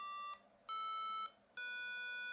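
Three sustained electronic keyboard tones from a phone app sound one after another, each held briefly with short gaps, clean and fairly quiet.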